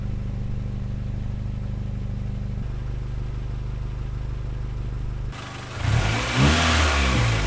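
A refreshed Honda B18C engine idling with a steady low hum, then blipped into a brief rising rev near the end, close and loud.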